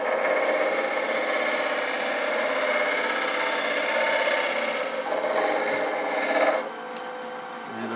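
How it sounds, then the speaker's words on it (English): A spear point scraper drags across a wooden workpiece on the lathe to clean a ridge tool mark, a steady continuous rasping scrape close to the microphone that stops abruptly near the end, leaving quieter background. "let's get in there with my scraper spear point"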